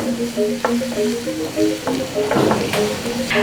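Bitter beans, carrot and spring onion stir-fry in a pan with a loud, close sizzle, punctuated by repeated spatula scrapes and knocks at an irregular stirring rhythm.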